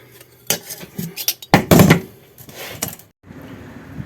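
A metal exhaust pipe being bent for a Hayabusa turbo engine kit car: a close series of irregular metallic clanks and scraping knocks, ending in a short pause and a low rumble.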